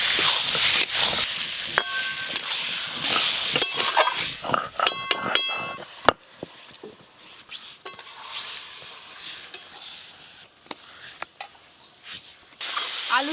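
Spices, onions and fried potatoes sautéing in a pan for chicken kosha, a steady sizzle and hiss broken by repeated clinks and scrapes of a spoon stirring against the metal.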